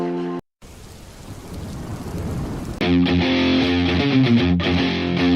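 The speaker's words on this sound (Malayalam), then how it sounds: "ഫുള്ള് മഴയാണ് ഇവിടെ ഫുള്ള്" Heavy rain pours down in a dense, steady roar, then a strong tonal hum joins it partway through.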